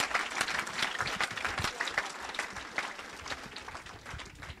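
Church congregation applauding in Evry, France: dense, sustained clapping from many hands, steady and moderately loud throughout, with faint voices mixed in.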